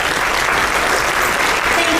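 A seminar audience on end-of-life matters breaks into a dense, steady wash of applause that stays loud and even, with no gaps, for the full two seconds.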